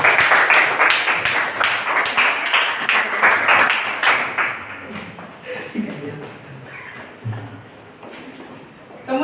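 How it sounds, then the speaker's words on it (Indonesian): Classroom applause for a presenting group, a burst of many hands clapping that is loud at first, then thins and fades as scattered claps and room chatter take over. "tepuk tangan untuk kelompok"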